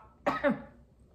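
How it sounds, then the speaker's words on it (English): One short, sharp cough, close by, with a brief rough second burst like a throat clearing right after, in an otherwise quiet space. "Hold on, I got a cough."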